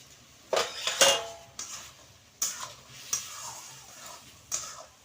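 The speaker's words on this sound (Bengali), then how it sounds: "এবার থালাটা আমি তুলে নিলাম" A metal plate serving as a lid is lifted off a pan of ridge gourd cooking in a village kitchen, giving several close clanks and scrapes of metal spread over a few seconds against a faint sizzle.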